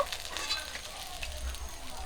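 Pabda fish frying in hot oil, a soft even sizzle with faint crackles, quiet and close, no talking.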